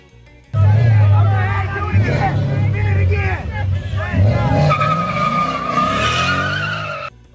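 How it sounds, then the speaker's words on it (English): A Ford Mustang revs and its tires skid and squeal loudly at a street takeover, with an engine drone, sweeping squeals and a crowd's shouting and chatter throughout. "highly skilled Mustang driver loses control at high speeds"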